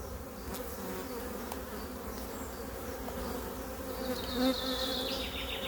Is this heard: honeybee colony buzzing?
yes